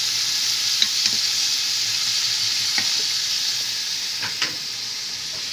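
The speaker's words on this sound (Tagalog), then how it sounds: "Tuloy lang natin ang pag-isa hanggang sa lumambot na yung kamatis." Tomatoes sauté in a pan for chicken bopis, a steady bright sizzle running throughout, broken by a few soft clicks and scrapes of stirring.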